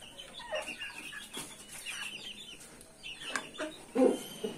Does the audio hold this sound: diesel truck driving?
no